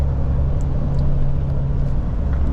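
A car driving through a village in light rain, a loud steady engine and road rumble from inside the cabin with a low droning hum and faint higher ticks, no talk.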